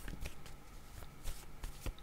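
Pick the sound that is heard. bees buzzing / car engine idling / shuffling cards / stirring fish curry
shuffling cards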